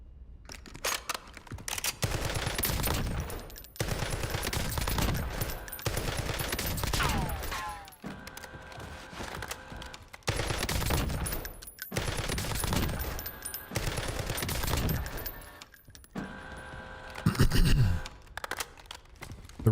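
Repeated gunfire from a slow-firing weapon during a Call of Duty Warzone match in Verdansk, coming in several loud bursts of rapid shots separated by short pauses, with game ambience between them.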